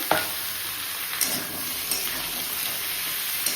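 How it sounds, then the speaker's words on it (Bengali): Mixed vegetables, including pumpkin, eggplant, potato, beans, tomato and carrot, sizzle steadily in a pan with a continuous frying hiss and a few soft stirring clinks and scrapes. "একটু ভাজা হোক।"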